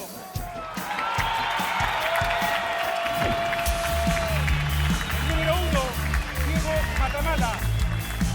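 A big stadium crowd at an Osorno vs Puerto Montt football match applauds and cheers continuously, a loud, sustained roar with whoops and a few shouting voices rising above it.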